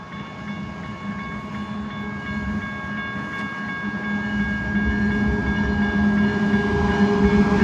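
A westbound BNSF freight train led by a Canadian Pacific locomotive rumbles past, its steady roar and low engine drone growing gradually louder as it approaches, with faint tonal hums above the rolling noise.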